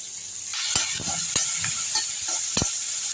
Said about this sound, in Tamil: இப்போ இதை வந்து வெங்காயத்தில் போட்டு வதக்கிடலாம்